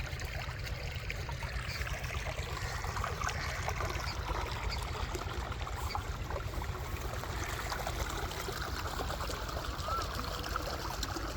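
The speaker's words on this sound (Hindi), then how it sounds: "इसीलिए पानी की आवाज़ आ रही है," Tubewell water pours noisily from a raised channel down into a lower-lying sorghum fodder field, a steady close rushing and gurgling flow that holds constant throughout with no pauses.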